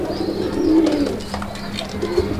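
Deshi Bombay pigeon cooing in repeated low, throaty calls, close and fairly loud, with faint background noise.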